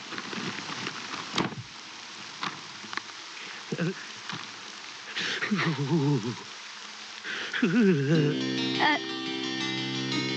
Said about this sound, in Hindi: हाँ, लीजिए बारिश